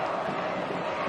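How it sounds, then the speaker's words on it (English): Pen-y-bont football supporters at the Welsh Cup Final against The New Saints chant and cheer as a dense, sustained roar of massed voices, steady and moderately loud, with a commentator's voice blended faintly under it. "the Pen-y-bont crowd have refound their voices now"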